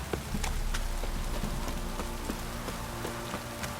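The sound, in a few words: rain in the video game The Witcher 3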